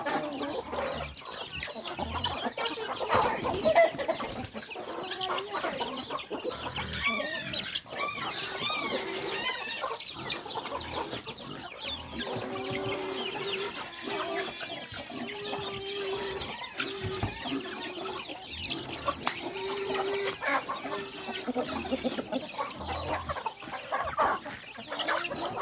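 Chickens cluck continuously at a farm, with overlapping soft calls from several birds at moderate distance and an occasional louder squawk.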